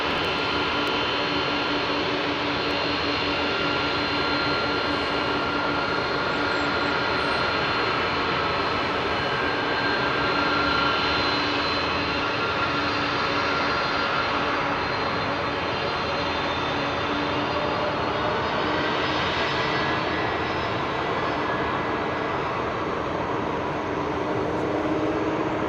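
A jet airliner on runway 27R at London Heathrow, heard up close as a loud, continuous engine roar that holds steady for the whole stretch with no voices over it.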